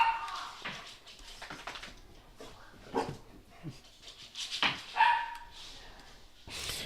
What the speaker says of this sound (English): so all the dogs are going crazy.